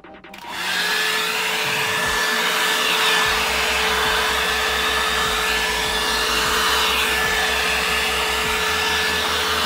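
Hair dryer blows dye colors laid in a line across a disc golf disc, a loud steady whooshing airflow with a constant motor hum that runs unbroken for nearly ten seconds, close to the mic with no talking.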